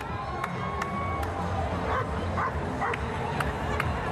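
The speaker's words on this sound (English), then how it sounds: "What is he barking at?" A dog barks repeatedly at a steady pace, a few yips among the barks, amid a busy outdoor crowd at the San Francisco Pride parade, with people chattering nearby.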